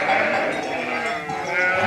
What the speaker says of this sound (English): Joaquim's letting these sheep out this side here.